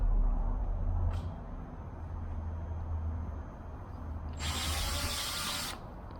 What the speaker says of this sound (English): I take my 3/32 drill bit and I drill down through